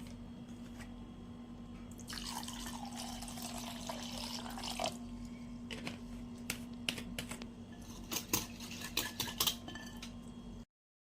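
A spoon clinks and swishes through ghol, a yogurt drink with cold water, in a glass, a frothy churning followed by a run of quick, sharp taps against the rim.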